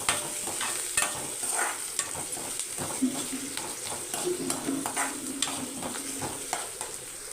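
Ridge gourd pieces tossed and stirred in an oiled pan with curry leaves, giving a continuous close sizzle punctuated by rhythmic scraping and clattering of a spatula against the metal.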